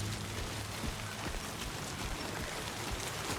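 Heavy timefall rain in Death Stranding 2 falls as a steady, dense patter of raindrops, constant and even throughout with no voices.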